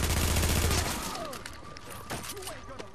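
Rapid automatic gunfire rattles loud and dense in The Division's Dark Zone, a sustained burst of shots that thins into scattered reports and ringing echoes.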